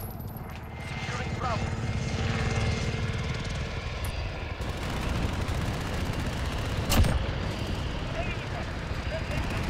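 A loud helicopter rotor drones steadily throughout in the video game Modern Warfare, with a sharp crack partway through and voices talking over the engine noise.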